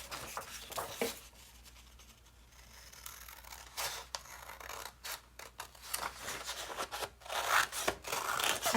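Scissors snip and rasp steadily through paper along a traced pattern for a witch's legs craft, quiet and close, in short uneven cutting strokes.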